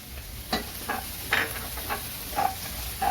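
Onions sauté quietly in a pan over low heat with garlic, giving a steady soft sizzle broken by a few brief stirring clicks and scrapes.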